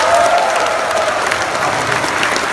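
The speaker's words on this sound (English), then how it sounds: "give him another round of applause" A crowd at a seminar event in Hanoi bursts into dense, loud, sustained applause for a speaker, steady throughout with a faint murmur of voices mixed in.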